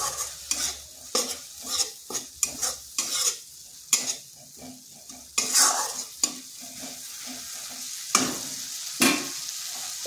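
Onion and garlic mixture being sautéed in a pan, close scraping stirs with a steady sizzle underneath, strokes coming in irregular bursts with short pauses between.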